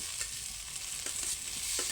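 Potatoes frying in a pan of spice masala, sizzling steadily while a spoon stirs them with soft scraping strokes at close range, no talking.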